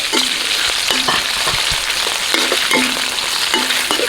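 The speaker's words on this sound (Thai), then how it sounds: "เราก็จะผัดกระเทียมแค่พอหอมนะครับ แล้วเนี่ยใส่ลงไปก็หอมแล้วก็จะใส่กุ้งตามลงไปเลย" Chopped garlic and shrimp stir-fry in a wok, a constant oily sizzle punctuated by rhythmic spatula scrapes against the pan roughly every second, close and fairly loud without any talking.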